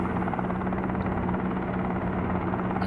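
A helicopter in the Helicopter Simulator video game, maneuvering to land on the back of a yacht, gives a steady, loud rotor and engine drone with a low pulsing thump that holds constant throughout.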